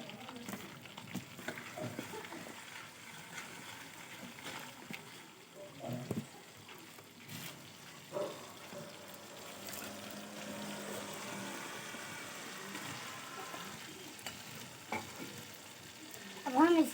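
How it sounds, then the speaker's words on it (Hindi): Tomatoes going into a pan of frying fish curry, with a low sizzle and intermittent scraping and stirring clatter over seventeen seconds, fairly quiet and close, a voice occasionally speaking over it. "अब हम इसके अंदर टमाटर डालेंगे।"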